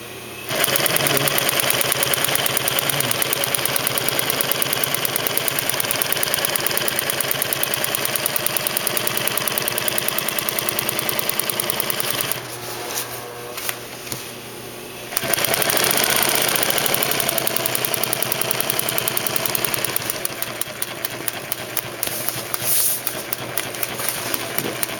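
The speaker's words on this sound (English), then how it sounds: "We just tuned this machine up. It wasn't working very well before. And now it's working like a dream." A freshly tuned Singer 111-W153 walking foot industrial sewing machine runs at speed with a dense, steady mechanical whir and rapid stitching clatter, pausing briefly midway before starting up again, loud and close.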